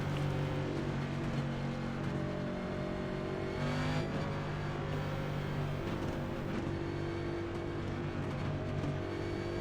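A Next Gen stock car engine in the iRacing simulator drones steadily at high revs, with layered harmonic whine that dips briefly around a shift or corner and then climbs again, loud and continuous with no talk.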